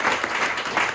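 Brief burst of audience clapping at a talk, dense and steady for about a second with no voices over it.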